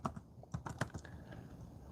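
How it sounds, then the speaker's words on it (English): Quick, irregular keystrokes clatter close by on a poor-quality computer keyboard, in short bursts of typing. "Damn, this keyboard is so bad."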